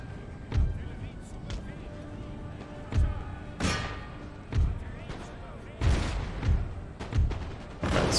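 Musket volleys from infantry in the Empire: Total War strategy game, Prussia campaign, with several sharp booming shots spaced irregularly over the scene, some clustered, amid continuous battle noise and low background rumble.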